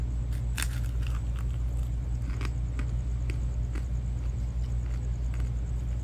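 Crunchy fried pork skin braciola bitten and chewed, a few sharp crisp crunches over a loud constant low rumble like a nearby running vehicle.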